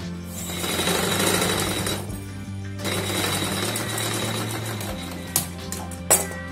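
A sewing machine hems a high-neck blouse, its motor running in loud rapid bursts that stop and restart with short pauses, ending with a few sharp clicks.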